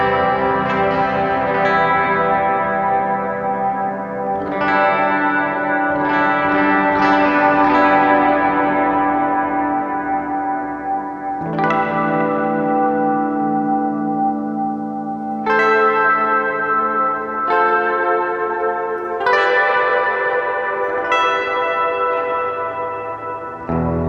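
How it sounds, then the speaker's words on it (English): An ESP LTD TE-200DX electric guitar plays clean chords on its bridge pickup. About eight loud strummed chords each ring out and fade, alone with no talking. "we're going to check out some nice clean tones here"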